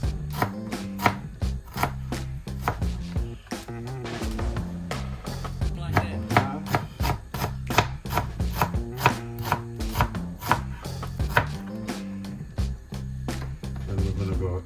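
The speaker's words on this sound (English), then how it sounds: "Onions, I just want them to be nicely sliced." A knife slicing onions on a chopping board, quick repeated sharp taps close up in an uneven, busy rhythm, with faint talk now and then between the cuts.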